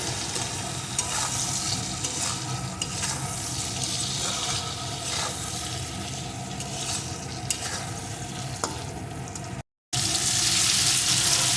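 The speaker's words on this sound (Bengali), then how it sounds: "এখন আলুটা সব কিছুর সাথে ভালো করে ভেজে নেব" Potatoes fry and sizzle with turmeric, salt and spices for a koi fish and eggplant curry, stirred steadily in the pan; a loud, continuous close sizzle with scraping runs to a brief cut and then resumes brighter.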